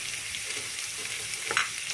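Garlic, curry leaves, pandan leaf, cardamom and other spices fry in hot oil for a cabbage dish, giving a steady, soft crackling sizzle with a brief sharper spit near the end.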